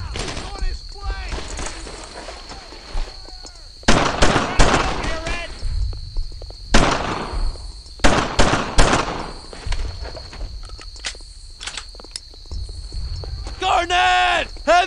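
Shots ring out in a World War II shooter game, with sharp single blasts and rapid bursts scattered among loud, shouting voices.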